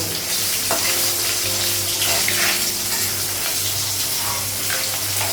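Fish sizzles steadily in hot oil in a pan on a gas stove, a dense, close crackle with faint stirring and a low hum beneath.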